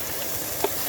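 Food frying in a DSI pan on a camping stove outdoors in wind and rain, a short burst of soft continuous sizzle with one small pop.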